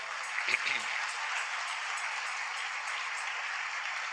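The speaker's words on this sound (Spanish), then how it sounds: "Denle ese aplauso fuerte al Señor" A church congregation applauds, a broad, even wash of many hands clapping that carries on at a moderate level from start to finish, with a voice briefly heard near the beginning.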